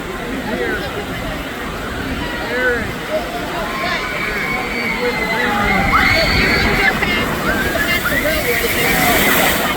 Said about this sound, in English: That is a huge splash.